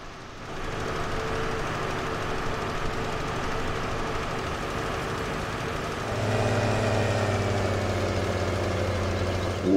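Tractor engines running in a farming video game, a steady droning idle that holds level and then steps up louder and deeper around the midpoint, continuous with no voices over it.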